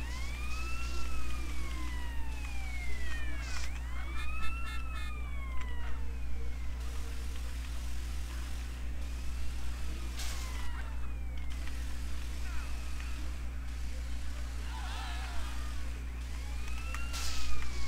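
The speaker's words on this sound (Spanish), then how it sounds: "Esa moto de policía ahí." A police motorcycle siren in GTA San Andreas wails in repeated rising-and-falling sweeps over a steady low engine drone, carrying on through most of the stretch with brief bursts of other game noise, no talk.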